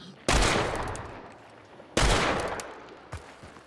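A Springfield Dum Dum rifle fires in a shooter game: two loud, heavy shots about two seconds apart, each with a long rolling echo, followed by a softer distant pop.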